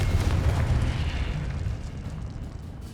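A Confringo fire spell bursts in Hogwarts Legacy, giving a loud, rumbling explosion that fades slowly into a low roar.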